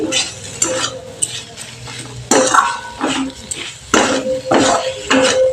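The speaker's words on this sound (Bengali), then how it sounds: "আমি একটু ভালো করে নেড়ে নিচ্ছি" A spoon stirs restaurant-style mixed vegetable curry, just sprinkled with black pepper powder, in a pan, producing repeated close scraping and clinking strokes over a soft sizzle.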